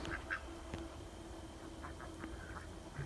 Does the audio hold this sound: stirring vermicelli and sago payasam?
no